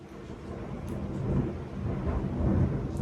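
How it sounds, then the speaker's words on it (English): Low rumbling thunder rolls through a storm, a broad steady growl that swells louder toward the end, heard indoors with no talking. "There's the thunder. There's the fun of the storm."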